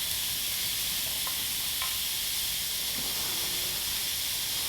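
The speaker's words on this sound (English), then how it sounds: "So prepare for a loud sizzle." Onions and tofu sizzle loudly in a hot pan for a stir fry, a continuous bright hiss and crackle close up, with no talking.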